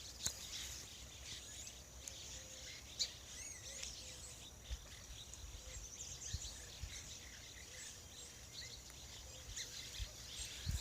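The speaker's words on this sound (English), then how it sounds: "Oh man, that tree up there is just covered in birds." Birds call from a tree by a lake near a campground, with a steady insect buzz beneath. Short, faint chirps and tweets repeat through a quiet, distant-sounding scene, and no one talks.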